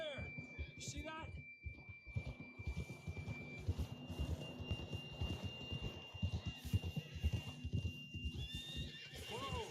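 Steady clip-clop of a horse's hooves in Red Dead Redemption II, a rhythmic gallop throughout with a neigh near the start, while characters talk over the ride.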